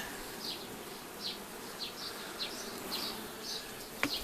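Honeybees buzz steadily around a hive, with individual bees zipping past the microphone in repeated short swells, and a sharp click near the end.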